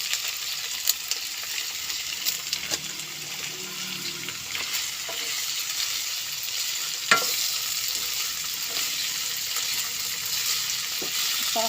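Cabbage fries and is stirred in a pan, giving a steady, close sizzle throughout, with occasional scrapes and clinks from the stirring.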